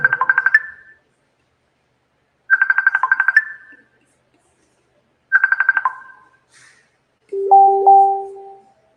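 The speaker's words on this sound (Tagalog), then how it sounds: "Saglit lang mga kapatid at meron tumatawag." A phone ringtone from an incoming call plays loudly and close: a short chiming melody repeats three times with gaps between, then ends on a different, steadier two-note tone.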